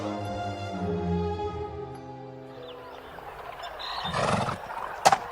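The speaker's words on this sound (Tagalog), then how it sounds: "nadatnan ko rin si Osang na nagpapakain din ng kabayo" A horse whinnies loudly while being fed by hand, a long neigh with a sharp snort near the end, close and clear.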